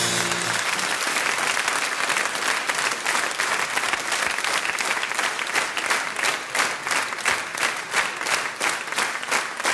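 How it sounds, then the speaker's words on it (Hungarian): A theatre audience claps loudly and continuously, dense applause filling the room after a brief musical sting at the start, with no voices over it. "Ahogy tapsolnak, ezzel önök is egyetértenek, igaz?"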